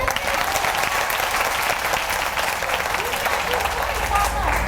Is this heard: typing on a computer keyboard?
no